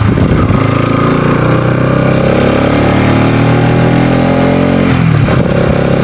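Motorcycle engine during a ride from Haleshi to Diktel, a loud steady drone held close the whole time with a brief shift in pitch near the end.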